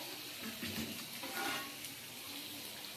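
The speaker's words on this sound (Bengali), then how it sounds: "অল্প সেদ্ধ করা গাজরগুলো ভেজে নিচ্ছি" Parboiled carrots frying in a pan for moong dal with carrots, giving a steady, close hiss of sizzling oil that runs throughout and swells slightly now and then.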